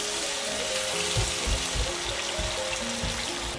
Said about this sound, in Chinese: 好，现在兑那个热水，